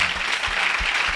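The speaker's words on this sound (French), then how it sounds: "Donne une grande acclamation." A church congregation applauds and cheers to acclaim the Lord at a revival service, steady loud clapping filling the room with a few low thumps.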